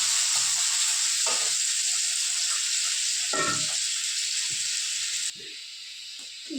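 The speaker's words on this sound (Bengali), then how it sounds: "আলুটা ভাজা বসিয়ে দিচ্ছি।" Sliced potatoes fry in hot oil in a pan, giving a loud, steady sizzling hiss throughout with a few soft stirring scrapes, and no talking.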